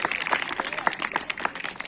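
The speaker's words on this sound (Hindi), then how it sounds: "जोरदार ताली बजाकर एक बार दिनेश जी का अभिनंदन करें" Audience applause at a yoga camp anniversary gathering, steady clapping from a crowd for about two seconds, moderately loud with a few sharper claps standing out.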